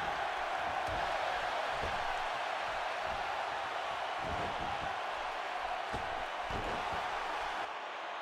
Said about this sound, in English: The crowd fully behind Austin.